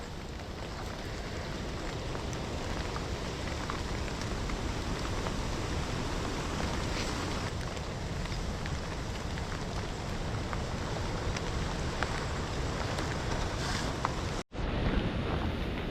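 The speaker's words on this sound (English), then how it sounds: "Oh yeah, doing this in the rain is a good idea." Wind and rain during a storm on an off-grid island in Portugal, a loud, constant rushing wash that blows straight into the microphone and cuts out abruptly near the end.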